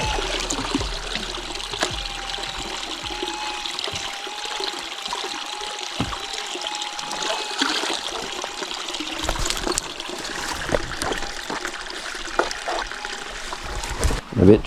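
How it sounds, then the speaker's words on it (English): A small stream of water trickles and burbles steadily down a rocky gully with a bedrock base, close by and continuous, with occasional clicks and rustles over it. "Good to see some water flowing down through it."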